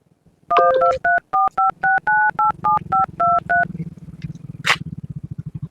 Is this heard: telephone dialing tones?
yes